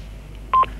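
A push-button telephone gives one short, clear dialing tone over a low, steady background hum, with no talking.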